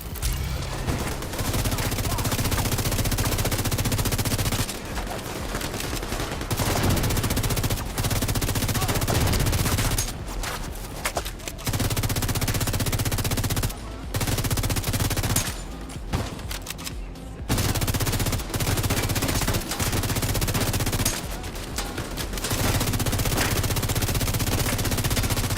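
Sustained automatic assault rifle fire in The Division 2 comes in long, dense bursts separated by short pauses, loud and close throughout.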